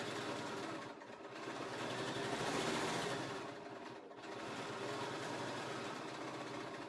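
A BERNINA sewing machine with a stitch regulator runs steadily while stitching a quilt, a close continuous mechanical hum that briefly dips twice as the quilt is stopped and repositioned, with no talking.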